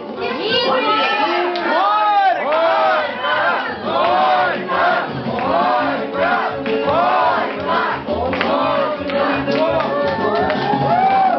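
Wedding guests at a породычання ceremony chanting "gorko" loudly in unison, a rhythmic crowd chorus with children's voices mixed in, the chant swelling and repeating in waves for the whole stretch.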